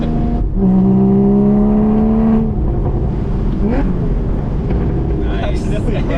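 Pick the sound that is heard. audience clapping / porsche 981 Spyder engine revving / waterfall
porsche 981 Spyder engine revving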